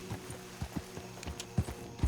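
Horse hooves clip-clop in the video game Red Dead Redemption 2, a handful of irregular, muffled thuds over a quiet background hum, fairly faint and close.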